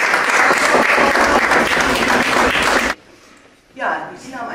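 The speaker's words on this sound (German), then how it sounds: "Ganz einen herzlichen Applaus, glaube ich, einmal an die ganze Gruppe" Warm applause from the crowd at a children's art exhibition opening, dense and loud for about three seconds before stopping abruptly, followed by a short burst of voice afterward.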